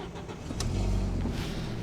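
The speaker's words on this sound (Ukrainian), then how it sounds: "Зараз я його відразу заведу." An Audi A4-based Seat Exeo engine cranks and catches, rising into a low steady idle close by.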